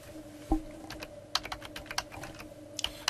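Keys clatter on a computer keyboard in a burst of quick, uneven taps, fairly close and quiet, with a sharper knock early on and no talking over it.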